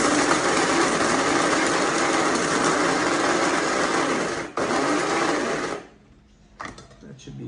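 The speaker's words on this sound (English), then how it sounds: "the first thing I'll do is actually grind the beans, and it takes literally a few seconds" An electric coffee grinder whirs loudly and steadily for several seconds, grinding beans to a medium coarseness for French press, then stops abruptly, leaving faint room sound and a small clatter.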